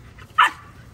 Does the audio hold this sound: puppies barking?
yes